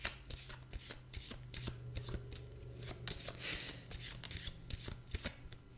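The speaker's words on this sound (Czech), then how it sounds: "A já se tady zamíchám a podíváme se na to," Fallen Angels oracle cards are shuffled close up, a steady rapid riffling and slapping of card edges running continuously and quietly, with no talk.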